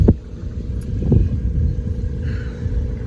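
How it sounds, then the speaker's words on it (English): Strong outdoor wind buffeting the microphone with continuous low rumbling gusts, loud and close, plus a few faint knocks and no talking. "Wind's really picking up"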